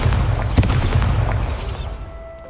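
A Bombarda spell explosion in the video game Hogwarts Legacy lands as a deep, heavy boom that rolls out and fades over a couple of seconds.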